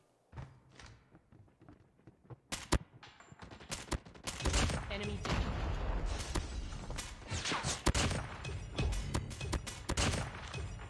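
Rapid gunfire in Call of Duty Mobile, with sharp, dense shot bursts and thuds, some single cracks early, then sustained loud volleys, with a voice talking over the action.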